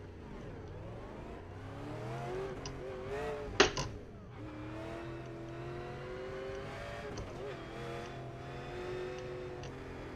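A NASCAR Cup Series race car in a racing video game drones and revs through gear changes, its engine pitch rising and falling repeatedly, with a brief sharp impact burst midway, as if striking a wall, before the engine note continues.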